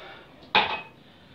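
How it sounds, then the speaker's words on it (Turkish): Dishes being washed in a home kitchen, heard as a single brief clatter of pots or cutlery knocking together against a faint background hiss, with no talking. "Bulaşıklarımı yıkamaya başladım."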